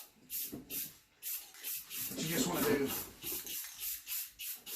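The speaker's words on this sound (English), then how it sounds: "So I'm going to go ahead and start spraying it down." An aerosol spray can mists the inside of a two-part stone mold in a series of short, evenly spaced hissing bursts, close and steady, while a person talks over them.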